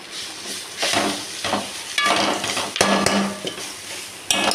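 Ingredients for tomato chutney sautéed in a pan, with steady sizzling broken by repeated scraping and stirring strokes of a spoon against the pan, close and fairly loud, no voices.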